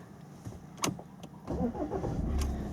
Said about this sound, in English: And there you see the engine will start.